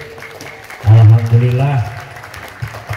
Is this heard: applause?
yes